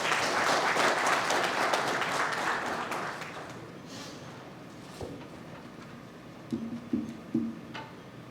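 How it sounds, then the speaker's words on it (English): An audience at a conference on urban mobility applauds a keynote speaker taking the stage, loud sustained clapping from a crowd for about three seconds that thins out into scattered claps, then a few isolated sounds in a quieter room. "Please welcome sir with a round of applause."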